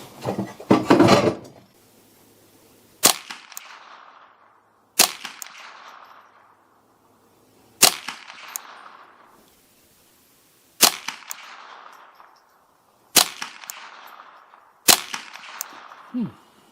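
A custom 10/22 semi-automatic .22LR rifle fires Winchester 36 grain hollow point rounds: six sharp, separate cracks spaced a couple of seconds apart, each with a short fading echo, preceded by a burst of handling noise.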